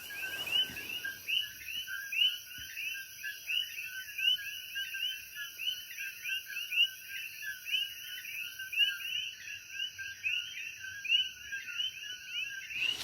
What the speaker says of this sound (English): See these crickets?